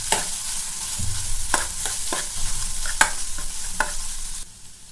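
Ginger-garlic paste fries in a pan for a Telugu beans curry while a spoon scrapes through it, sharp stirring clicks and scrapes recurring every half second or so over a steady close sizzle, with a faint low rumble underneath.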